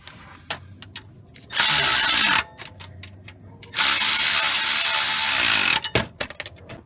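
A power tool tightens the belt tensioner pulley bolt on a 2006 Nissan Sentra in two loud bursts, one short and one about two seconds long, separated and followed by quieter clicks and clanks of the work, with no talking.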